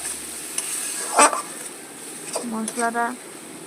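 Chicken stir-fries with masala in a pan, with spatula scrapes, brief stirring bursts and a soft sizzle up close, and a voice speaking briefly near the end.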